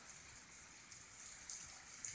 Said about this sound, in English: There is some really hard rain pouring here.